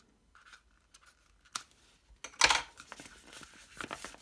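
Scissors snip and crinkle through the plastic packaging of a Minecraft magazine issue. The cuts are quiet and scattered, with a louder burst of tearing and crumpling in the middle and no talking.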